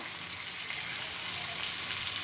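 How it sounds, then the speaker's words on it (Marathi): Chili and garlic paste frying in hot oil for a spicy besan curry (pithla), a steady broadband sizzle holding at even loudness throughout, close and continuous with no talking. "आता याच्यामध्ये आपण मिरची आणि लसूणचं पेस्ट टाकूया"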